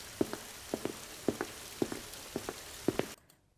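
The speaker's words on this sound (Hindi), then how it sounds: "थोड़ी देर में देखते देखते भयंकर बारिश शुरू हो जाती है।" Heavy rain in a cartoon scene, heard as a steady wash of rainfall with repeated sharp drip-like taps at a regular pace, fairly close, ending abruptly.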